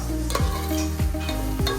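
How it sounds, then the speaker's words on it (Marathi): Onions sizzle steadily in a hot spiced oil tempering for matki usal as a spoon scrapes and stirs the pan in regular strokes, close by and without speech. "मस्त अशी फोडणी बसलेली आहे आता कांदा ब्राउनिश होतोय"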